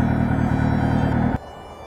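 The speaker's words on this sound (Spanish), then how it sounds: "vamos a parar la motocicleta." A motorcycle's idling engine putters steadily close by, then cuts off abruptly as the bike is shut down, leaving only faint background hiss.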